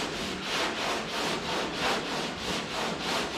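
Car bodywork is sanded by hand in steady back-and-forth strokes, a close, rhythmic rasping that swells and fades about twice a second without pause.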